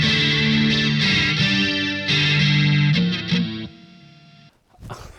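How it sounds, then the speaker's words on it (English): An electric guitar with brass strings plays through a Sonicake QGT-01 effects unit with reverb added, giving sustained distorted chords with chorus shimmer that ring out and fade into a reverb tail before a brief scrape at the end. "I'm going to shove some reverb on that."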